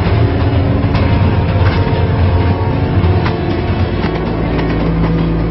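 A train rolls through Lawachara forest near Sreemangal in Sylhet, producing a loud, continuous rumble and rattle of wheels on track with occasional sharp clanks throughout.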